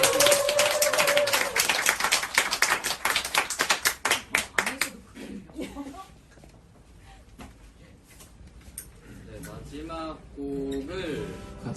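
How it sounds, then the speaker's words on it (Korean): A concert audience claps in a brisk, rhythmic burst that thins into scattered claps, then the performer starts talking. "자, 박수 한번 크게."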